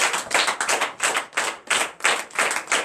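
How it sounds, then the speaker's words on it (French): A church congregation at a morning prayer service in Benin breaks into applause, a dense wash of many hands clapping in loud rhythmic bursts that swell and dip about twice a second. "Donnez-nous vive acclamation."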